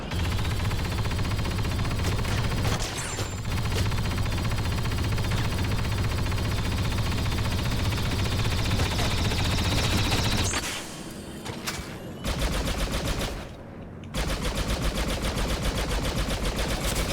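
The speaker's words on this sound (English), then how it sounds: "Sentry guns online." Automated sentry guns in a video game fire in long, loud bursts of rapid shots, sustained for many seconds with a couple of brief pauses where the firing drops out.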